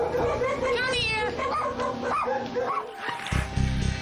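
Many dogs in a hoarding house, with yips, whimpers and barks coming through over loud, overlapping human voices and shouting, close and busy throughout.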